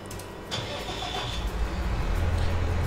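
Farm vehicle engine in Landwirtschafts-Simulator 19 cranking to life with a brief starter whine, then settling into a steady low mid-pitched running drone that swells slightly as it pulls away.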